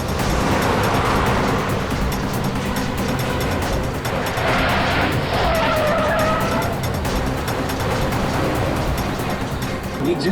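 Two identical cars drive off on separate roads, tires skidding and squealing over continuous engine noise. The sound is loud and close and goes on without a break.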